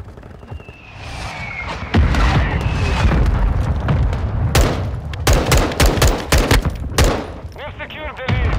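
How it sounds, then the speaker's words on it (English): Call of Duty Modern Warfare 2 battle: a mortar strike lands amid gunfire, with heavy booms and sharp bursts of shots close by. A voice speaks in between and over the blasts. "Hostile mortar strike incoming."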